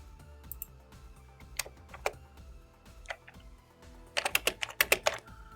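Typing on a computer keyboard while writing program code: scattered light key clicks at first, then a quick close burst of rapid keystrokes near the end, over a quiet low background hum.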